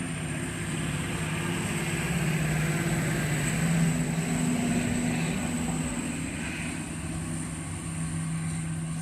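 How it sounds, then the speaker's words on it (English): Loud engine drone of a jacked-up pickup truck passing outdoors, a steady broad rumble that swells slightly around the middle and then eases off, with no voices. "It's one of those jacked up trucks."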